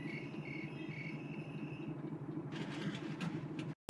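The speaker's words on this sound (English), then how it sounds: "The cricket stopped." A lone cricket chirps in a film scene, a steady pulsing trill over low ambient hum that stops partway, followed by faint rustling noises and a sudden sharp sound at the end.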